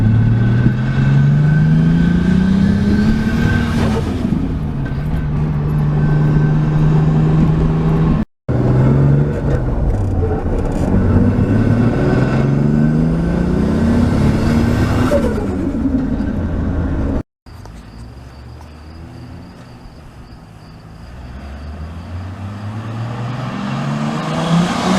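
A manual Lexus Aristo engine revs hard through acceleration pulls, its pitch climbing steadily in several rising sweeps broken by brief gaps at gear changes, loud and close with no talk.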